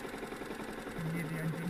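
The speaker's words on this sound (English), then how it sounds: "Can you hear the engine now?" A motorcycle engine runs with a steady low knocking idle, then its tone drops and steadies into a lower hum as the clutch is slowly released, close by, with a person talking over it.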